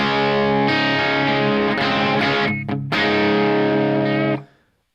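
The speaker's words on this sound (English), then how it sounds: "This is actually like the only Marshall style amp that I own, and it sounds really good." Electric guitar played through a Victory Sheriff 22 Marshall-style valve amp, a loud sustained distorted chord ringing for several seconds with a brief shift midway, then cut off abruptly and silence.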